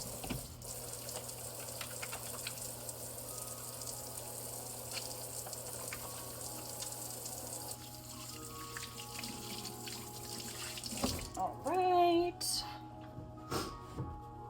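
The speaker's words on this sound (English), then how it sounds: "And then I'm just gonna wash my hands real fast." Kitchen tap water runs steadily into a sink while hands are washed, a constant close rush of flow that cuts off near the end, followed by a few clinks and handling noises.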